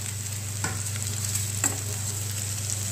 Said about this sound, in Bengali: আর এদিকটায় আমি এই সয়াবিনটা কষাচ্ছি।